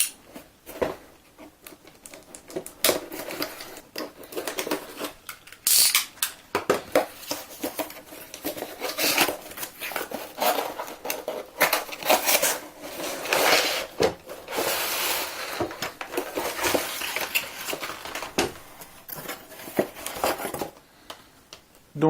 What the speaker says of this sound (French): On va maintenant ouvrir la boîte.